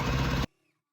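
A sewing machine stitches a quilt block in a steady, close mechanical whir that stops abruptly partway through.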